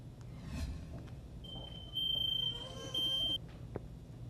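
Two short, high-pitched electronic beeps from a household smoke alarm, about a second apart, over a quiet background hum.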